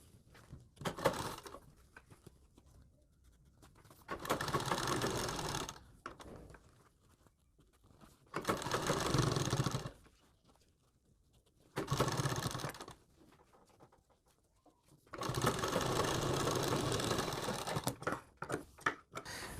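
Sewing machine stitching a folded fabric strip along a sleeve edge, running in several loud, steady bursts of a few seconds each with short quiet pauses between them, and no talking.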